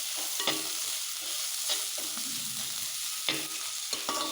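Okra pulse curry being stirred in a pan after rock salt goes in, with a soft continuous sizzle and several sharp scraping knocks of the spoon against the vessel, close and clear with no talking.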